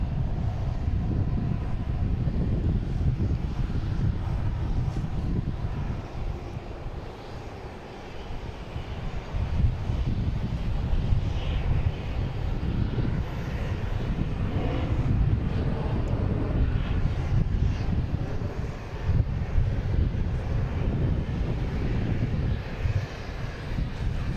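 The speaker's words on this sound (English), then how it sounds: "Here is United Airlines coming in from Chicago." A United Airlines airliner arriving from Chicago on approach to Boston Logan roars continuously and loudly with broad jet-engine rumble, steady throughout with some wind buffeting.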